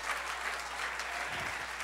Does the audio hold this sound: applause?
yes